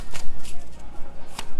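Tarot cards shuffled by hand in quick riffling bursts, several soft papery flurries separated by short pauses, close and moderately loud with no talking.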